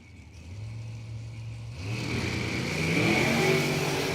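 Pro Charger drag race car, one a 2020 Race Tech chassis, launching down the strip at the Numidia 150, a rising engine roar that builds and shifts up as the car pulls away, with no talking.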